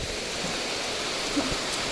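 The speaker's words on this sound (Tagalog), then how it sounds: "Princess, mag-ulan." Steady rain falls in an even, hissing wash with no break, a continuous broadband patter throughout and no voices.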